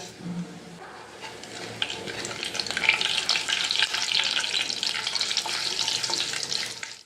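Mustard seeds and cumin fry in hot oil in a kadhai, a short low thump first, then a rising, crackling sizzle that holds steady and loud for several seconds.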